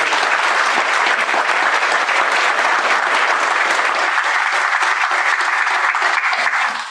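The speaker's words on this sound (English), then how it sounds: "Let's all please give a round of applause to our exhibiting artists and our graduating seniors." A large audience at an art school commencement ceremony applauds steadily, a dense, loud wash of clapping that holds evenly for several seconds before tapering off at the end.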